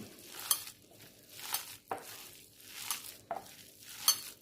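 Cabbage vada batter mixed by hand, soft wet squelching and slapping strokes repeating in a steady rhythm, close and fairly quiet, with no talk.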